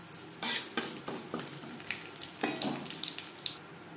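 A bay leaf and whole cumin seeds fry in hot oil, giving a close, steady sizzle with crackling bursts and a few light stirring scrapes.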